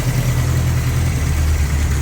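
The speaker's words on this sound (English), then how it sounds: "The engine's running really well." A 1984 Toyota pickup engine idles smoothly and steadily up close, a continuous low rumble with an even pulse and no revving.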